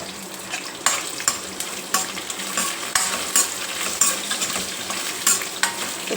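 Cumin seeds and green chillies fry in hot oil for dondakaya pachadi, giving a steady crackling sizzle with occasional sharp pops and the scrape of stirring, close and alone.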